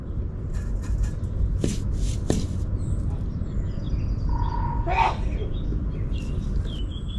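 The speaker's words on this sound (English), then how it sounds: "there's a woodpecker over there" A woodpecker pecking a hole in a tree gives a few sharp, sparse taps at a distance, mixed with birdsong and outdoor background noise, with faint voices.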